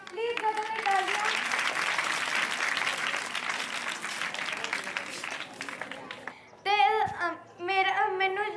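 Applause welcoming a young climate activist onto a stage, a broad wash of clapping from an audience that fades out, followed by someone speaking.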